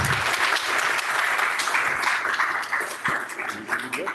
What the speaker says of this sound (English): let's give a big round of applause for Tom Tango.